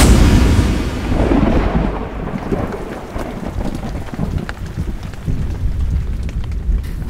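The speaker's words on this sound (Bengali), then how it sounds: "আবার এত জোরে বৃষ্টি নামলো" Heavy rain pours steadily with loud rumbles of thunder, strongest at the start, then a dense, continuous downpour with no voices.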